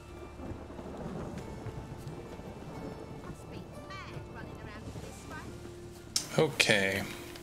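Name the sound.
rain and thunder in the video game The Witcher 3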